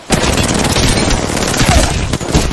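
Gunfire in the video game Apex Legends comes as a loud, dense, rapid automatic burst that runs almost without a break, with a short dip before it resumes.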